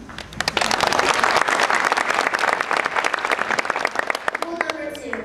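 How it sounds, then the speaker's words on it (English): An audience breaks into lively applause with distinct sharp individual claps standing out in the mix, sustained for about four seconds before thinning, as a voice begins speaking near the end. "feel free to applaud at any time"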